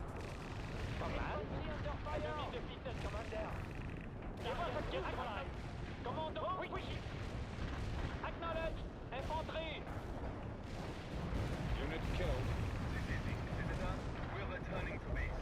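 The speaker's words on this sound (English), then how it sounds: "Woo! Carpet bomb." Artillery carpet-bombing explosions in a NATO-versus-Soviet military video game set in France, a steady dense rumble of booms and gunfire running throughout, with voices talking over the barrage.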